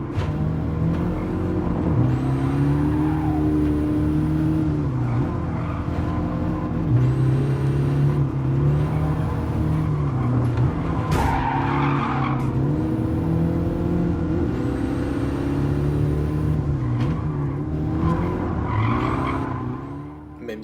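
A small car in the Gran Turismo Sport racing game brakes hard into corners with loud, sustained tire squeals and skids, its engine droning and rising and falling in pitch through repeated gear changes, with no talking.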